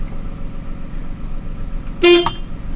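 Car horn pressed briefly on the steering wheel, a single short loud honk of about a quarter second over a low idling engine hum.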